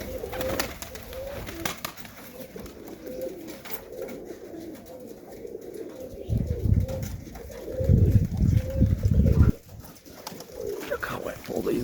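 Serbian highflyer pigeons coo close by in a loft in Melbourne, Australia, with soft repeated throaty coos, then louder flapping and rustling bursts midway, without speech.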